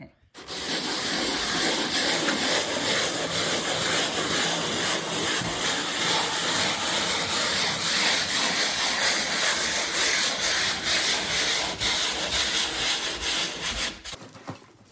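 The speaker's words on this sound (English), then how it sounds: "We're gonna take this 80 grit sandpaper and just sand in a circular motion." Continuous abrasive scratching of 80-grit sandpaper on drywall in steady circular strokes, loud and close, running without pause until it stops abruptly near the end.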